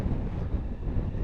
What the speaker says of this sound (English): it's really windy tonight